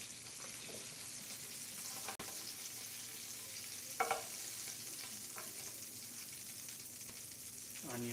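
Butter melting in a pan while cooking shrimp tacos, a soft steady sizzle with faint stirring scrapes and a few clinks, alone and fairly quiet.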